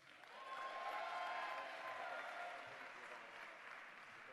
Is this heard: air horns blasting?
no